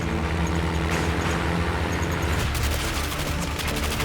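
Rapid machine gun fire rattles in fast, dense bursts over a loud battle din at the Battle of Stavelot, getting sharper and more distinct in the second half.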